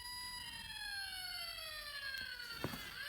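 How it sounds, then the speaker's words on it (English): An electronic wailing siren from an E-Blox toy circuit, like a distant fire engine, thin and tinny, sweeping downward in pitch with layered tones, heard alone with a couple of faint clicks near the end. "now we hear what sounds like a fire engine siren that is far off in the distance"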